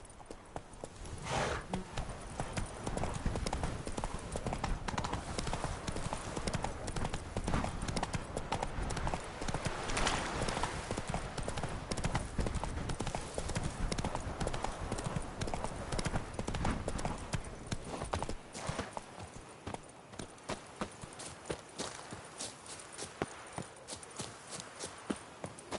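Horse galloping in the video game The Witcher 3, a rapid, dense clip-clop of hooves running loud and steady, then thinning toward the end, with faint speech mixed in.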